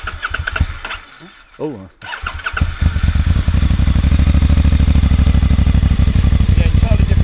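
A Voge DSX 625 motorcycle engine cranks and catches, then settles into a loud, steady, lumpy idle close by. A short exclamation is heard just before it fires up.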